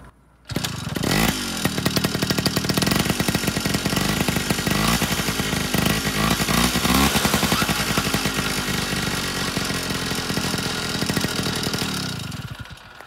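A Tomos moped fitted with a Homoet exhaust starts after a brief quiet moment, then idles loudly and steadily up close, giving a buzzy, rapid two-stroke putter that holds for over ten seconds before easing off at the end.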